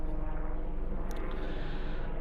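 A helicopter passing overhead above an off-road crawler canyon, a continuous broadband rotor and engine rumble, steady and moderately loud throughout with no voices.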